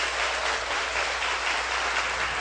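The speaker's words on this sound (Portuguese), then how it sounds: "se você entendeu, aplaude esse Deus maravilhoso" Church congregation applauding loudly during a Portuguese-language worship service, a dense, steady wash of many hands clapping that fills the whole stretch without pause.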